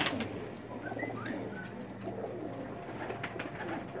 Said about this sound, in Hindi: लाल परी कबूतर है जी